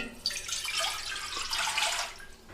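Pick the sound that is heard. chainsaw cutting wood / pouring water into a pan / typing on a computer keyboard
pouring water into a pan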